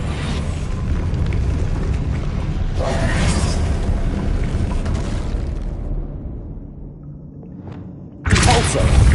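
A Confringo fire spell exploding in the video game Hogwarts Legacy, a deep, rumbling boom that rolls on for several seconds, dies down, then ends with another sudden loud burst.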